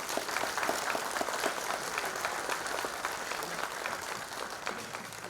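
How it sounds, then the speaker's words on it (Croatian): Sustained applause from an audience at a cultural society's anniversary concert in Sisak, dense steady clapping filling the whole stretch at an even level. "Evo, mislim da ste zaslužili jedan aplauz"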